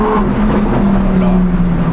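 A Lamborghini Huracan STO with its 5.2-litre V10 accelerates hard, a loud, close, sustained engine roar with a rising tone.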